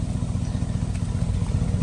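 A Chevy engine, from a Suburban, Tahoe or Silverado-type truck, idles at operating temperature after an intake manifold gasket replacement on a chilly 32-degree day, giving a steady, even low rumble with a faint mechanical clatter throughout.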